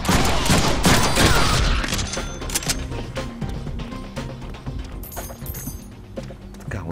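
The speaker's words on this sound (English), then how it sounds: "这样开枪啊！" Heavy gunfire in the Deadpool video game, a dense barrage of rapid shots that is loud and busiest at first, then thins into scattered bursts over game sound.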